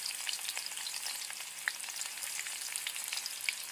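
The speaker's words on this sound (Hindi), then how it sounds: "मेरा तेल गर्म ही है। अब मैं इसी में प्याज ऐड कर दे रही हूँ" Onion and garlic frying in hot oil in a home kitchen, a steady close sizzle with small crackles and pops throughout, no voices.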